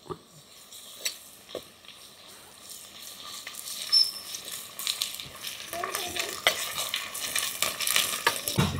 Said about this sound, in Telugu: ఇప్పుడు మనము అల్లం చిన్నులపాయ పేస్ట్ వేసేసుకుందాం. ఇది కూడా బాగా వేగనిద్దాం.